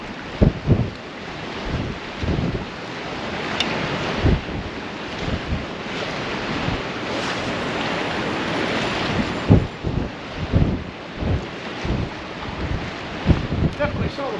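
Strong wind buffets the microphone on the bank of the River Humber at Paull during stormy sea fishing, a loud continuous roar with repeated gusty thumps throughout.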